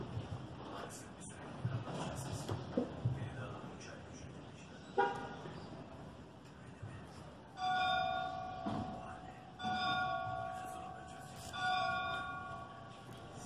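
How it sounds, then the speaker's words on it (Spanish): Church bells ring from a distance in San Bartolo, Oaxaca, sounding in repeated bright tolls over outdoor ambience and wind, with people talking nearby between the peals. "Están tocando las campanas."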